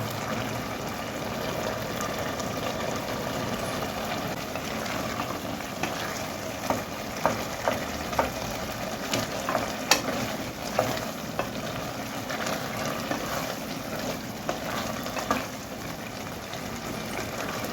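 Potato, drumstick and tomato curry simmers steadily in a pot, a continuous soft bubbling hiss broken by scattered light clicks and scrapes of stirring, with no voices over it.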